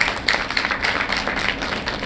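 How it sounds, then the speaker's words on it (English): Audience applause honouring nursing association founder members at a conference, a steady patter of clapping across a hall with brief sharper claps standing out, continuous for a couple of seconds. "A round of applause to them."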